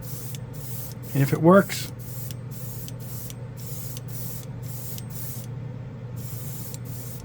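Born Paint chrome mirror paint sprayed from a can in short, regular hissing bursts separated by brief pauses, close and steady; a person speaks briefly early on over the spraying.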